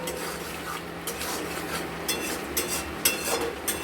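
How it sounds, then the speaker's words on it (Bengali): Spice paste for potol posto stirred in a pan, giving a steady close scraping and rubbing with light clinks of the spoon against the metal and a soft sizzle of oil underneath. "আবার আমরা ঢাকনা খুলে এটাকে করে নাড়াচাড়া করে দেবো"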